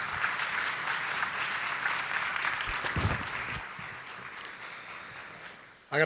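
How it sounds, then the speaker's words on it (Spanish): Audience applause for the panelists at a panel on cybersecurity in mining, a dense, even wash of clapping that slowly thins and softens toward the close. "Le pido un gran aplauso a nuestros panelistas."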